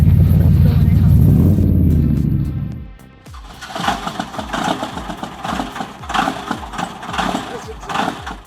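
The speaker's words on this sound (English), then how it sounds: "the long crank. That's the sound of a cold Dodge Cummins trying to awaken." A cold Dodge Cummins diesel truck engine cranks over with a long run of rhythmic, rattling chugs that never catch, following a loud low rumble at the start.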